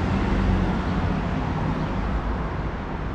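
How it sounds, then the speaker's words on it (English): Road traffic streams past on the Magaluf strip in Palmanova, a steady broadband roar of passing vehicles heard fairly close with no distinct voices. "Apologies for the traffic noise."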